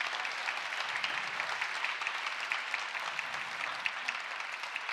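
Steady applause from a large audience at a talk event for Birgitta Kervinen, a dense, even wash of clapping that holds at a constant level without voices.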